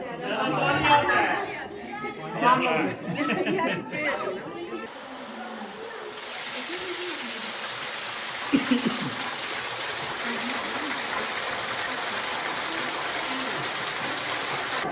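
Pumped rainwater pours into the Khewra salt mine, a steady broad rushing roar that begins after several seconds of people talking and chattering nearby and then fills the space evenly.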